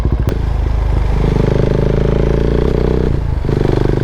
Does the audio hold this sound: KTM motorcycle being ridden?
yes